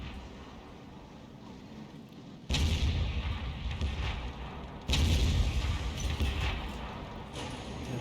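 Booming artillery fire from a GW Panther self-propelled gun in a tank game, two heavy blasts with long rumbling tails over steady background engine noise.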